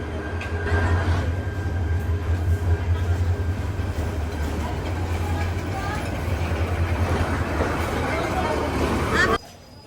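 Late passenger train pulling into Manikkhali station in rural Bangladesh, a steady low rumble of wheels and rolling stock with crowd chatter on the platform, continuous and close until it cuts off near the end.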